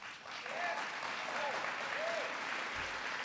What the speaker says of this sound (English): I got some applause for that.